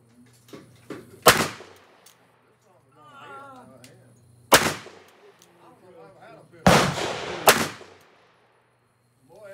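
Loud gunshots fired at a shooting target outdoors, three sharp close reports spaced a few seconds apart with a quick double near the end, with talk in between.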